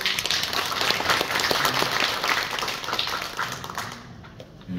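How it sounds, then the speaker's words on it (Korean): An academic memorial symposium audience claps to welcome professors to the stage, a dense sustained round of applause that gradually thins and fades toward the end. "여러분 박수로 환영해 주십시오"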